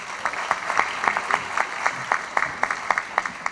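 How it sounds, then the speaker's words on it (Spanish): Scattered clapping at the 80th anniversary ceremony of the National Academy of Sciences: individual sharp claps in an uneven, fairly sparse rhythm, moderately near, with a faint room hum underneath. "Fuertes aplausos, por favor."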